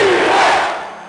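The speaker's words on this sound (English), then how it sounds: "There was plenty of cheering" Loud crowd cheering at a Hornets basketball game, a dense roar of many voices with a rising shout in the middle that eases off toward the end.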